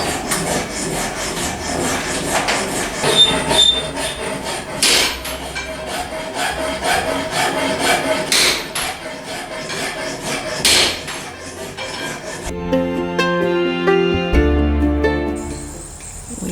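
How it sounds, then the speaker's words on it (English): Metal scraping and rubbing as a side chisel is polished by hand in a colonial-style workshop, with steady rasping strokes and occasional sharp knocks, followed by a faint ringing tone near the end. "He is working on the polishing work on a side chisel."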